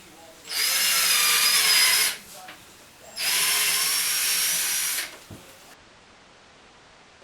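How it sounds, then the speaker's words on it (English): Power drill boring shelf-pin holes in wood for a closet organizer tower, two sustained high whines of about one and a half seconds each with a short pause between, close and loud, then quiet. "So I'll make a hole for the pins that will support the shelf."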